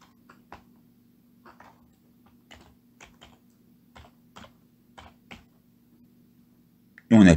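Keys tapped on a computer keyboard while a signature name is typed in Gmail, a sparse run of separate clicks spread across several seconds over a steady low hum, ending in a louder burst.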